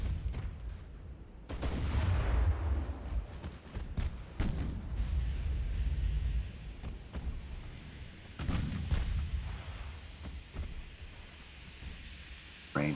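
Naval battleship guns firing in Ultimate Admiral: Dreadnoughts, heavy booming salvos separated by pauses, each a deep rumbling blast that rolls away, over a low background hiss.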